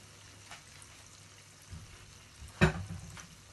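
Puff puff dough fries in hot oil, a faint quiet sizzle with a few soft clinks and one brief louder clatter as a piece is handled.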